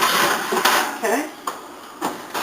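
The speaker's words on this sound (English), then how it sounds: "We're going to take our pans, make the top the bottom and the bottom the top." Metal cookie baking pans being shifted and turned around in an oven, giving a few short clanks and scrapes spread across a couple of seconds, fairly close, with no talk over them.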